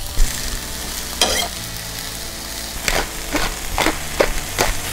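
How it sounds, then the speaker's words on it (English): Leeks, mushrooms and tomatoes frying in a hot pan with salt, pepper and butter, a continuous close sizzle punctuated by several sharp scraping stirs of a utensil, no talking. "let's go ahead and add our leeks, mushrooms, and tomatoes"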